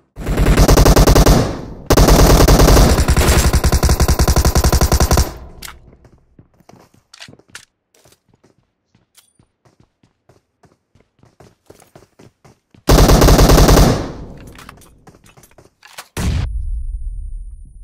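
Rapid automatic gunfire in PUBG Mobile, loud dense bursts at the start, a quieter stretch of scattered footsteps and clicks, then two more heavy bursts near the end.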